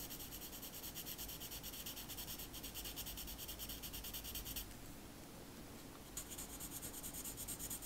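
A Staedtler HB pencil draws across sketchbook paper. Close, continuous scratchy rubbing strokes follow a quick back-and-forth rhythm, with a brief pause and then more shading.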